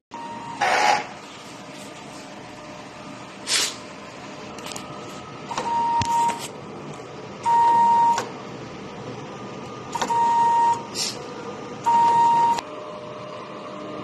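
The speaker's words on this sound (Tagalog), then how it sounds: "Head clean." A DTF printer cycles through a print head cleaning routine, giving several short mechanical whirring and pumping bursts separated by quieter pauses over a steady low machine hum.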